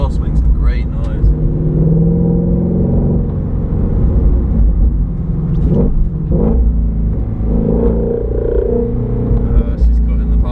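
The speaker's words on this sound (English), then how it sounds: "Exhaust makes a great noise." Shelby GT350 exhaust while driving on a snowy road, a deep rumbling drone that rises and falls with revving, loud and continuous beneath someone talking.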